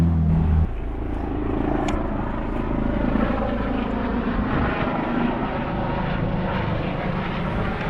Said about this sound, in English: that helicopter keeps on flying over this area